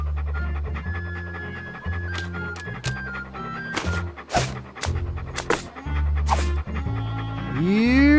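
A dog pants steadily in Monkey Island 2, a rhythmic, breathy huffing running through the scene alongside background game music and scattered effect sounds, ending on a rising whistle-like tone.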